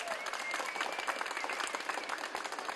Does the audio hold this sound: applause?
yes